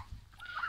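A hen gives a short, close cluck, a quick, raspy burst of fowl call lasting well under a second.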